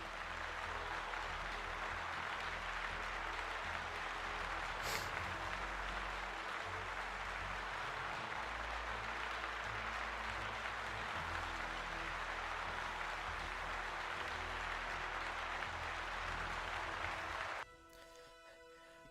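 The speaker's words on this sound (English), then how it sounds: "Let's give Brent a round of applause." Audience applause as a continuous, dense roar of clapping lasting most of the stretch, loud and even, before cutting off abruptly near the end.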